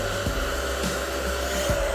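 A handheld hair dryer blows steadily and close by while drying hair, a continuous loud whooshing hum with faint rustling and small handling bumps underneath.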